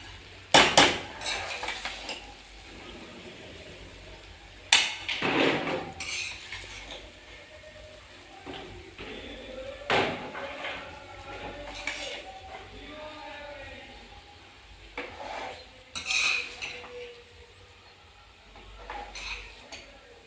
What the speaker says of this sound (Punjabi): ਚੰਗੀ ਤਰ੍ਹਾਂ ਇਹਨਾਂ ਨੂੰ ਹੁਣ ਹਿਲਾ ਦਾਂਗੇ